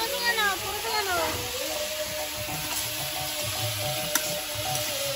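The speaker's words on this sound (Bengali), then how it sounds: "আলুতে একটু পরিমাণ মতো লবণ আর একটু হলুদ দিয়ে ভেজে নেব" Potatoes fry with salt and turmeric in a home kitchen, a steady close sizzle and hiss running the whole time, with voices talking over it.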